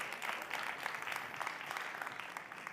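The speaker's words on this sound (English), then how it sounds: "Round of applause for George Gachara," Applause from an audience at a creative-economy panel event, a steady dense wash of clapping filling the room, continuous and fairly loud with no voices over it.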